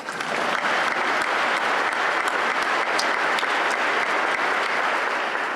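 Steady, dense clapping from a crowd of NC State fans goes on for several seconds without a break, loud and close, with no talking over it.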